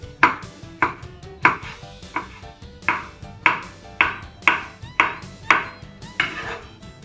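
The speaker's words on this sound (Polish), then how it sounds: "kroimy sobie też w kosteczkę" A knife dicing vegetables into small cubes on a cutting board, a steady series of about eleven crisp, close chops at roughly even intervals, each with a short ringing knock, and no talk.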